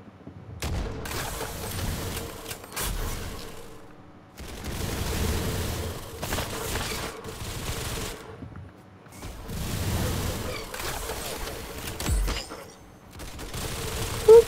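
Game gunfire in Roblox Arsenal comes as repeated waves of rapid shots and booming blasts, each lasting a couple of seconds with short gaps between, fairly close and steady in loudness.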